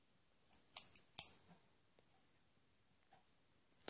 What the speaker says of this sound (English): Then cut it in half with your scissors.